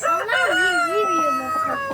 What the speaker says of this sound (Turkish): bunlar bizim tavuklarımız